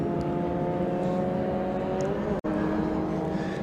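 A BMW Mini race car in a Mini Challenge Clubsport enduro race at Donington Park, accelerating down the straight with a steady, loud engine drone that holds an even pitch and briefly cuts out for a moment partway through.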